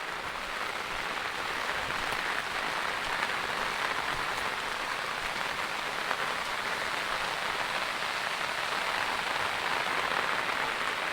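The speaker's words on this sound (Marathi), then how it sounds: "ही पहा छोटीशी नदी ओढा बोलू शकतो आपण त्याला" A small stream flows with a constant bright hiss and splash, even and unbroken, close and moderately loud with no voices.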